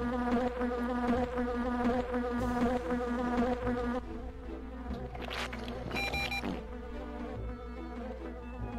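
Steady droning buzz of a bee swarm in The Grinch on Dreamcast, loud and continuous, layered over game music with a few brief game effects near the middle.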